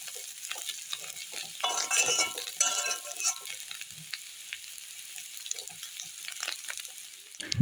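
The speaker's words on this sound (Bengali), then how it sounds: "আলুগুলোকে হলুদ আর লবণ মাখিয়ে ভেজে নেব তো চলো ভেজে নিই" Potato pieces coated in turmeric and salt fry in oil with a close, crackling sizzle, broken by stirring scrapes and light clinks of a utensil, louder around the second and third seconds, with no speech.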